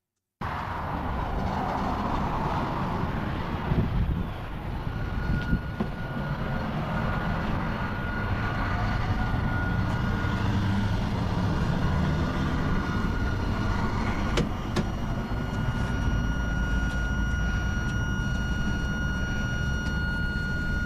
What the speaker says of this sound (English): This is the air system filling back up with air.